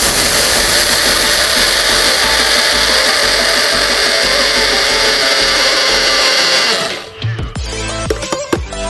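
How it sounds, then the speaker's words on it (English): Portable smoothie blender chopping whole flaxseed in an 8-ounce chopping cup, a loud steady motor whir for about seven seconds that cuts off, followed by light clattering and handling. "I'm gonna use the 8-ounce chopping cup. I'm gonna drop it in, and this happens to be whole flaxseed. This is really hard to chop."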